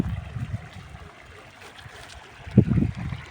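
Irrigation water running into a sugarcane field, a low steady trickle and gurgle with a louder splashing surge near the end, no voices.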